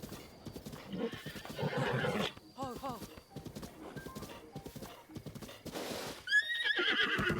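A horse in The Legend of Zelda: Breath of the Wild whinnies loudly in a rising, shaky call, with a person talking and laughing around it and faint hoof clip-clops.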